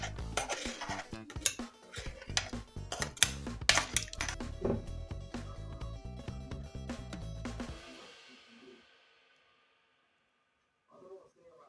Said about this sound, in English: let's scrape the bottom to get some of those really good bits off and make sure that they go in the jam